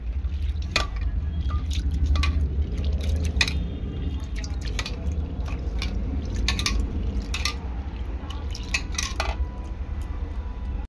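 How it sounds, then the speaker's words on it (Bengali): Lentils (dal) being washed with water in a bowl, with repeated splashes, drips and light clinks against the bowl, fairly close, in irregular bursts. "তো ভালো করে জল দিয়ে আমি ডালটাকে ধুয়ে নেব।"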